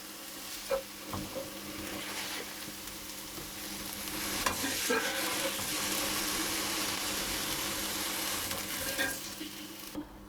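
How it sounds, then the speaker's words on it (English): Courgettes fry in a pan with a soft, steady sizzle, fairly quiet and close, broken by a few light utensil taps and stirring scrapes, with no speech. "So I've cooked those courgettes for a few minutes."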